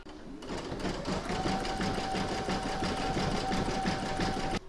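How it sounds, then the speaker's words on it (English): Embroidery sewing machine stitching a zigzag stitch along a join while making an in-the-hoop mandala placemat; a steady, fast mechanical whir with rhythmic needle pulses runs continuously, fairly close, with no talking. "You're now going to stitch round number 13, and that's going to do a zigzag stitch along this join."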